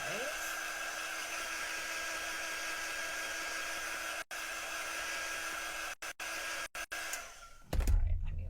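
Hair dryer blowing steadily on a chalk craft project, loud and close, with brief cut-outs near the end before it switches off and handling noise follows.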